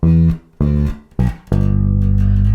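Electric bass plays a short syncopated fill of four plucked notes, the last one held and ringing, with clear low-pitched attacks, up close and with no talk.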